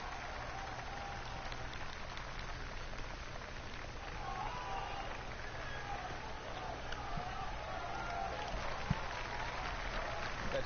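Virtual crowd applauding on a golf course in a video game, a steady wash of clapping that swells slightly toward the end, heard under a commentator talking.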